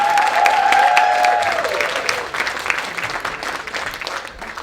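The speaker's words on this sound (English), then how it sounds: "Be generous with your applause." A comedy club crowd applauds after a stand-up set, a loud dense round of clapping that starts strong and gradually thins out, with a brief tone over the opening.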